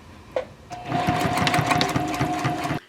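A sewing machine topstitching along the edge of a tote bag handle runs in one steady, close burst after a brief tap, then stops abruptly.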